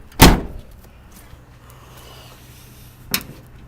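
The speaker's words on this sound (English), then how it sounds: "Just popping the hood for you." A car hood being popped open: a loud, close metallic clunk of the release, then a quieter second thunk about three seconds later, with a faint hum in between.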